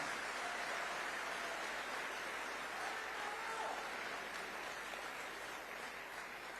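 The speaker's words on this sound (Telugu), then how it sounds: "గట్టిగా చప్పట్లు కొట్టి మీరు కూడా సహకరించాలి" An audience at a meeting in Singapore applauds: a steady, dense wash of many hands clapping together, sustained at an even level throughout with no pauses and no clear voices.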